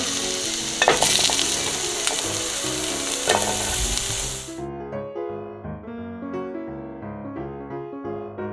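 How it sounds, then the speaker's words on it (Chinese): Ginger hits hot oil in a pot with a loud, hissing sizzle that crackles steadily for about four seconds, then stops abruptly as light background music takes over. "然后我们就放进姜，爆香"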